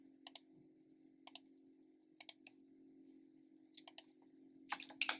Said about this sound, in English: Now I'm going to rate my guests by selecting the proper score and typing the review in the text